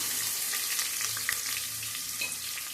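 Spices crackle and sizzle steadily in hot oil, a dense continuous frying hiss with scattered pops, close by.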